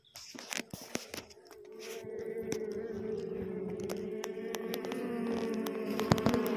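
Asian honey bees (Apis cerana) buzz steadily at an underground nest dug into old termite soil, a close, sustained drone that swells in the first seconds, with scattered rustles and ticks over it.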